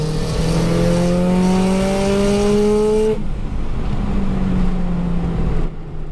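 A 500-horsepower Subaru Impreza STI with an external wastegate revs up loudly, pitch climbing through the gears, then cuts back and drops before accelerating again; close and continuous, no talking.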